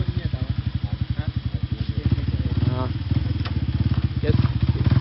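A motorcycle engine runs while being ridden in a low gear, with a loud, close, rapidly pulsing exhaust throb throughout and faint voices underneath.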